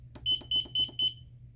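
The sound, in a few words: fry timer alarm beeping, Cal-12c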